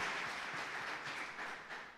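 Church congregation applauding during a sermon, a steady wash of many hands clapping at a moderate distance, gently fading toward the end without speech.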